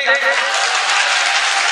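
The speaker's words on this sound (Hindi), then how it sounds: "एक बार आप जोरदार ताली बजा दें।" Audience at an Urdu poetry mushaira clapping loudly, a dense, steady burst of applause filling the whole brief moment.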